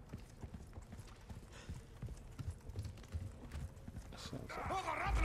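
Footsteps thud repeatedly at an uneven pace in the Resident Evil 4 Remake, moderately close, with a rising rush of ambient noise and a brief tonal sweep near the end.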